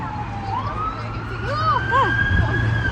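An ambulance siren wails past on a Leicester city centre street, rising and falling in repeated sweeping cycles that grow louder, over steady traffic rumble with a voice speaking faintly.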